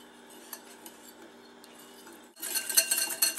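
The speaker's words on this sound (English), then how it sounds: "Whisk together your tomato paste and your warm water." Whisk scraping and clinking against a bowl while tomato paste is mixed into warm water, faint light taps at first, then louder, brisk rapid stirring near the end.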